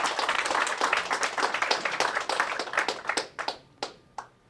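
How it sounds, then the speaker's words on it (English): A conference audience applauds at Cyberspectrum 21 in Las Vegas after a presentation, dense clapping that thins out into a few scattered, separate claps before stopping. "one more round of applause"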